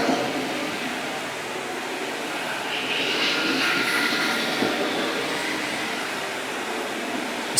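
An ICE Cobotics i15b floor scrubber with a squeegee runs continuously, a steady broadband whir and hiss of motor and water pickup that stays loud and even throughout, without speech.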